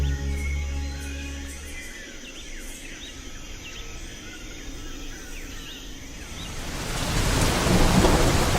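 A rainforest downpour with thunder over the jungle: a deep rolling rumble fades into steady hissing rain with faint bird calls, then the rain swells louder toward the end.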